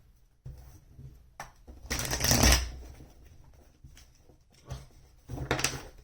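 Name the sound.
shuffling tarot cards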